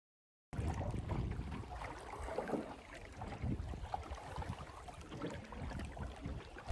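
Canoe paddling out on George Lake in Killarney backcountry: soft, rhythmic paddle strokes and water swishing against the hull, close and low, with wind and gentle lapping and no talk.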